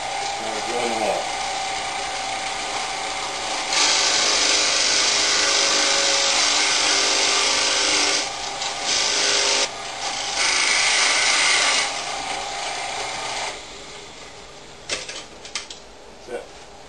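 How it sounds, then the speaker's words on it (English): A drill press bores a hole through a clamped wooden top panel, a loud sustained grinding whir that rises and drops in stages as the bit cuts, then winds down with a few clunks at the end. "Now we're drilling the hole."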